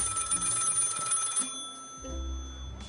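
A telephone rings repeatedly in a video game, its bright electronic trill loud and steady for about a second and a half before cutting off, leaving quieter game ambience and low rumbles.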